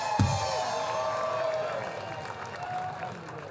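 Audience at a Riverfront Nights outdoor concert applauds and cheers for a blues musician after his opening set; steady broad clapping and crowd noise throughout, with a brief thump near the start.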